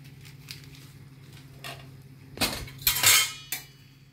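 Spoon stirring tadka masala into egg tarka in a metal pan, scattered soft scrapes building to a few louder close clanks and scraping strokes.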